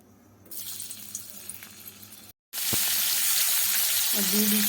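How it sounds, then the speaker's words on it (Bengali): Cauliflower florets fry in white oil in a hot kadai on a gas stove, a broad, steady sizzle that swells loud and close after a brief silent break. "এবার আমি ফুলকপিগুলো সাদা তেলে ভেজে নেব।"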